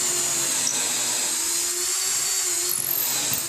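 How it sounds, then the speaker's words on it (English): Power drill fitted with a 3/16 inch bit boring straight through wood while building a small rustic chair, a steady high whine that holds evenly for the whole clip with no talk. "I'm going to drill a hole straight through."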